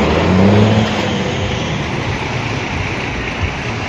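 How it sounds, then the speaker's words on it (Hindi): Loud, close roar of vehicles moving past on the jammed NH 44 highway near Ramban, heading from Srinagar toward Jammu, with a steady engine drone and a humming pass near the start. "एक साइड की गाड़ियाँ चल रही जो ऊपर से आ रही हैं श्रीनगर से जम्मू की ओर जो जा रही हैं वो चल रही हैं"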